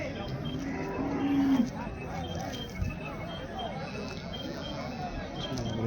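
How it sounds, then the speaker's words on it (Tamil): A buffalo gives a short, low moo amid the crowd at a busy Erode buffalo market, heard over steady background chatter and hubbub. "சனெருமை தான் நிறையா இருக்குது."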